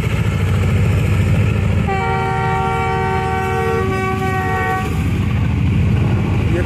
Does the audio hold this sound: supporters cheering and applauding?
no